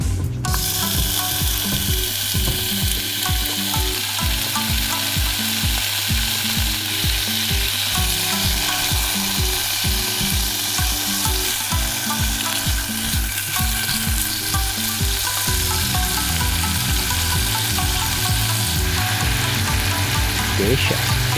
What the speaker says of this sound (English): One tablespoon olive oil. Turn up the heat. Stir fry bacon.